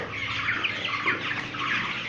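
Dense clucking and murmuring from many chickens packed inside a poultry house, a steady overlapping chorus of soft calls with a few sharper clucks rising above it, no voices present.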